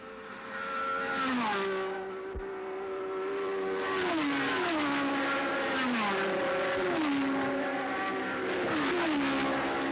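Chris Amon's Ferrari racing car at the finish of a 1969 Tasman series race, engine howling up through repeated gear changes, each rise in pitch cut by a quick drop, loud and close for ten seconds.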